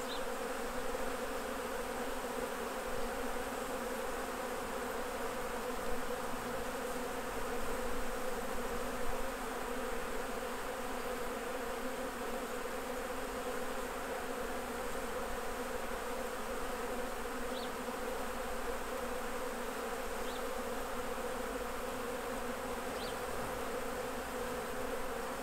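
Honey bees hum as a steady, dense buzz around honey frames during a honey harvest, with the swarm noise continuous and unbroken throughout and no talking.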